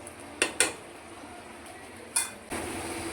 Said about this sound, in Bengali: দিয়ে আমি ভালো করে মশলাটাকে কষিয়ে নেব